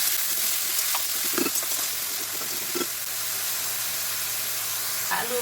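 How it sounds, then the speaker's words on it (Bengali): Onion and potato fry in a pan for noodles, giving a steady bright hiss of sizzling oil with a few stirring knocks near the start and middle. "পেঁয়াজটাকে বেশি ভাজবো না, মিডিয়াম ভাজছি"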